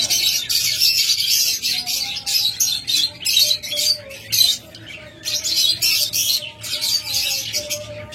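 Caged pet birds at a bird shop, lovebirds, budgerigars and cockatiels, chirp and twitter in dense overlapping bursts, bright and fairly close, with brief pauses between flurries.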